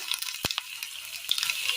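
Chopped ginger sizzles in hot oil with mustard seeds, a steady close frying hiss broken by a few sharp crackling pops.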